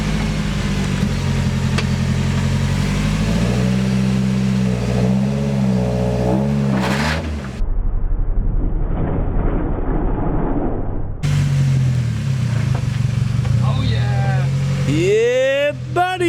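A car engine revs and idles nearby while it is driven onto blocks during track day prep, with rising and falling engine tones, a brief drop to a low rumble, and voices talking over it.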